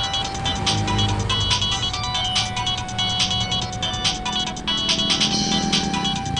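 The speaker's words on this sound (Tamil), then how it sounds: "ஆல்கேட்ஸ் கூப்பிடுறான்." A mobile phone rings for an incoming call, its bright electronic ringtone repeating in steady rhythmic pulses, loud and continuous throughout with a low background hum and no talking.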